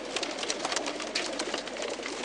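Pigeons coo steadily at close range in a loft, with soft overlapping calls and rustling throughout and no talk.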